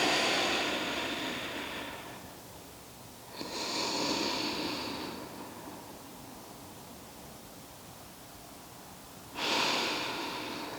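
Slow, deep breathing during yoga practice, long airy inhales and exhales rising and falling in three broad swells, close and unhurried, with no talking.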